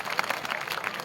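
Brief applause from a crowd at a speech held in a sports complex, a dense patter of clapping that is moderately loud and lasts only a moment, with no talking.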